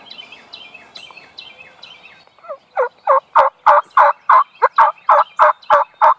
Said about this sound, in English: He's been double gobbling and triple gobbling.